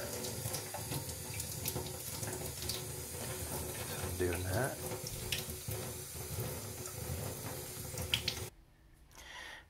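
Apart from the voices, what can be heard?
tap water rinsing metal part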